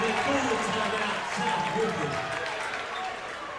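A gym crowd at a high school boys basketball game between South Ripley and Jac-Cen-Del roars and claps steadily during a timeout, a dense, sustained wash of cheering voices and applause.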